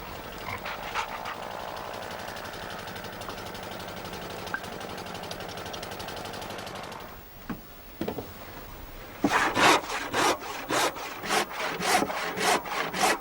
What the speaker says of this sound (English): cuts out the centreboard casing